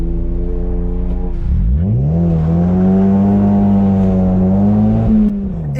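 An autocross car launches hard under full throttle, its engine idling briefly then rising into a loud, sustained high-rev drone that holds steady before easing off near the end.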